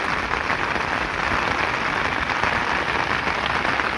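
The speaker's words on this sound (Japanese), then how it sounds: "もうここら辺はやっぱりちょっと降り方が強いですね" Heavy rain falls by the Ota River floodway, a dense, steady hiss of drops hitting surfaces, loud and unbroken throughout with no voices.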